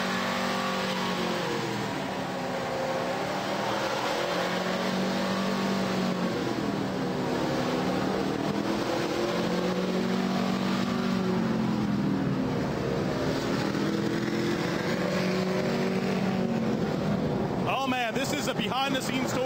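The No. 17 NASCAR Sprint Cup race car of Ricky Stenhouse runs in the Brickyard garage at Indianapolis in 2013, a loud steady engine drone with wavering revs and bright mechanical harmonics that continues throughout, followed by a sharp burst near the end.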